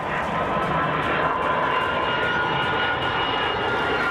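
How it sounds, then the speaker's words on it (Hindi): An Airbus Beluga XL cargo plane, about 63 metres long and 8 metres high, roars loudly and steadily as it takes off, a continuous engine drone with no pauses. "विमान आसमान में ऊपर उठने लगा"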